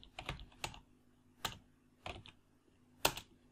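Keystrokes on a computer keyboard while code is typed, a few quiet close clicks in short irregular bursts separated by brief pauses, with no talking.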